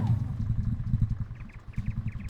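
A tractor engine chugs with a rhythmic low putter in the Farming Simulator 13 video game, while a person talks over it.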